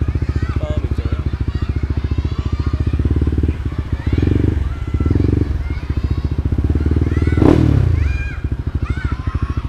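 Honda Winner motorcycle engine, nearby, with a rapid pulsing idle that swells into several short revs, plus a sharp clatter burst midway; someone talks over it on a street.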